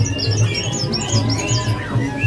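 A male spotted oriental magpie-robin (kacer trotol) sings in a bird-seller's kiosk. It gives a steady run of bright, twittering chirps and whistles, fairly close, over a low background hum.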